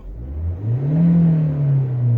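A Ford Mondeo MK5 2.0 TDCi diesel engine with a failing oil pump revs up and settles, a single smooth rise in pitch that holds, then eases slightly, loud and close.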